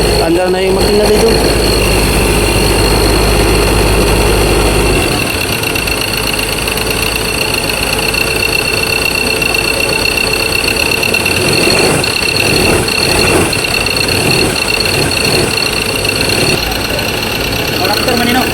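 A Ford engine, freshly top-overhauled after overheating, runs at a steady, loud idle with a constant rumble and a faint knocking undertone, close by, with voices in the background.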